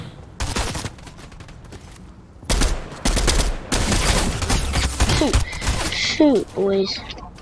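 Loud bursts of video game gunfire from Fortnite, rapid fusillades and automatic fire in dense clusters, with players talking over the shooting.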